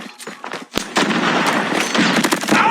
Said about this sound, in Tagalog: Ang lakas ng baril!